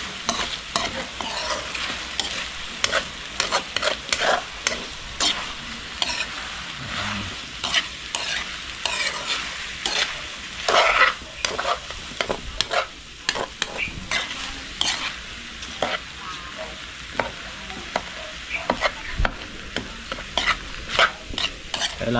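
Beef skin sautéing in vinegar in a pan, stirred with a utensil, makes a steady close sizzle punctuated by repeated scraping and clinking strokes throughout, with no voices.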